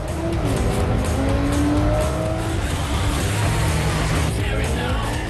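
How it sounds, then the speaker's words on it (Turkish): Race cars towing camping caravans around the Spielberg circuit in Austria, a loud continuous engine roar with tyre squeal and rising and falling revs, dense and unbroken throughout. "Piste çıkan iki pilot otomobillerinin arkasına bağladıkları kamp karavanıyla yarışı ilk sırada tamamlamaya çalıştı."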